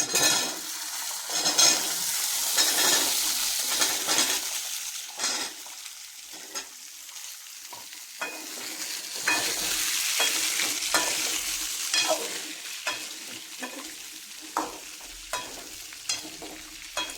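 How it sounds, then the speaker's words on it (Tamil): Onions frying and being stirred in hot oil for a country chicken curry, with steady loud sizzling and repeated scraping of a spoon against the pan throughout, no voices. "வெங்காயம் அப்படியே உள்ள போட்டுக்கலாங்க"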